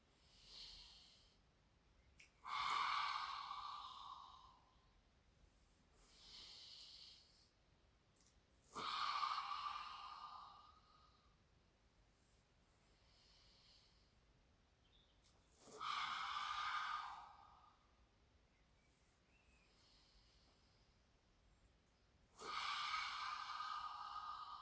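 Slow, deep yoga breaths in and out, four unhurried cycles spaced roughly six seconds apart, each a close, airy rush of breath with quiet pauses between and no talking.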